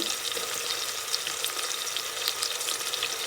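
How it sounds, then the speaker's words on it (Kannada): Onions frying in a pan for a vegetable pulao, a steady close sizzle with crackling spatter and faint stirring, continuous and unbroken throughout. "ನೀರುಳ್ಳಿ ಒಂಚೂರು ಗೋಲ್ಡನ್ ಬ್ರೌನ್ ಮಾಡುವಂತ ಫ್ರೈ ಮಾಡಿದೆ"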